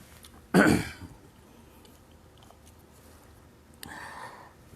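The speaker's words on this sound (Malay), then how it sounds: "batuk sikit." One sharp, fairly close throat clearing or cough comes from someone speaker at a religious talk. After a quiet pause there is a second, softer rasp near the end, with no speech between them.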